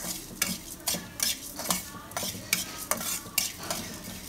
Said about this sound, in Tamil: அதில் நான் வந்து 2 டேபிள்ஸ்பூன் தனியாவை ஆட் பண்ணி நல்லா ரோஸ்ட் பண்ணுறேன்